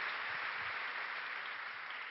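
Audience applauding at a professional accountants' congress plenary, a dense, even wash of clapping that continues steadily from start to finish at moderate volume.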